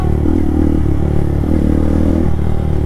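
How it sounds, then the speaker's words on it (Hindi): A motorcycle engine rumbles close by with a throaty, pulsing exhaust note that rises and falls slightly, loud and continuous with no talking. "बाइक एकदम दहाड़ रही है, देख रहे हो।"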